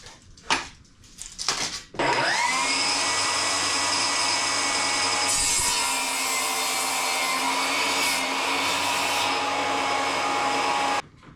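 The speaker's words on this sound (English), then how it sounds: "So now I need to take this and cut two 24-inch blocks for the front and back." Power saw cutting two 24-inch wood blocks for a small-shop crosscut sled: brief knocks and handling noises, then a loud steady high whine starting around two seconds and running for about nine seconds before stopping abruptly.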